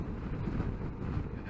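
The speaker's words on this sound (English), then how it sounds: "It's very windy. I hope you can hear me." Strong wind buffeting the microphone while riding a 2022 Honda CRF1100L Africa Twin Adventure Sports DCT motorcycle, a brief, loud, low roaring rush with no speech.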